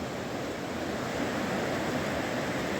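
A mountain river flows past at Mori, a steady broadband wash of rushing water that fills the whole clip without pause, close and even in level, with no voices.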